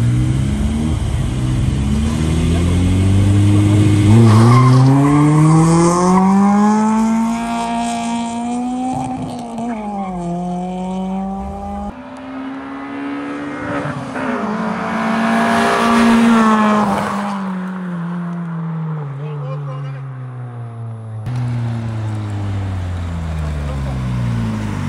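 A Toyota Mark-X at a night drag race, engine revving loudly and climbing through gears in long rising sweeps, close and sustained, with a brief dip between pulls.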